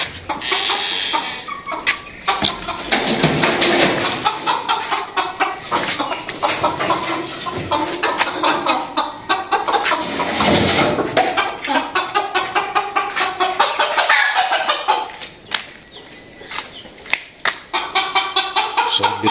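Newly bought chickens, a mix of breeds, cluck and squawk continuously on a small farm, with dense overlapping calls close by and no talk.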